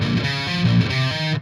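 Distorted electric guitar plays the opening verse riff of a song, loud and continuous chugging with shifting low notes, heard alone.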